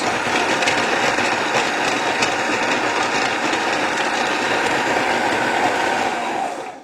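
A Magimix Cook Expert food processor chops onion with a loud, steady whirring and grinding that holds evenly for several seconds before cutting off abruptly, with no voices.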